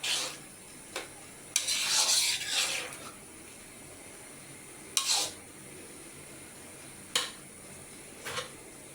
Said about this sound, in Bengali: এখন পুঁইশাকের মধ্যে মাছের মাথাগুলো দিয়ে দেব, দিয়ে নাড়াচাড়া করে নেব